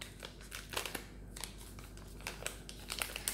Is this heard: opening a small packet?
yes